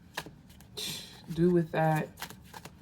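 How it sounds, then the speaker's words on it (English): Tarot cards being shuffled by hand, a crisp riffling flutter in short bursts under a person's speech. "I'm just shuffling a little bit of Mystic Beauty's Easy Tarot"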